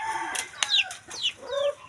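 Chickens clucking and crowing at close range, several short calls over a couple of seconds with rising squawks, in a village yard among poultry kept for a party meal.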